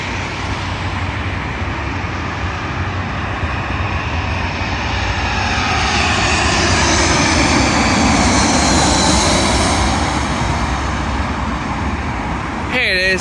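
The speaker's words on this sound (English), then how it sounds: "Arriving in now is a Eurowings Airbus A319 from Hamburg, terminating here at London Heathrow Airport." A Eurowings Airbus A319 jet arrives to land at London Heathrow, its engines a loud, continuous roar with a whining rush that swells and shifts as it passes nearby.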